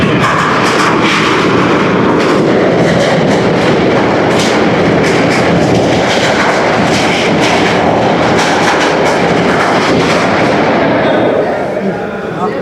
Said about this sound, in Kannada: ತುಂಬ ಪಟಾಕಿ ಹೊಡಿತಾರೆ